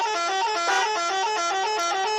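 A truck horn blares continuously, loud and close, with a slight pulsing wobble, and no talking.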